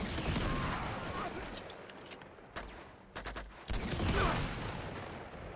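Gunfire in the game Uncharted 2, with scattered shots and bursts over a busy action mix that rises and falls. Someone talks now and then between volleys.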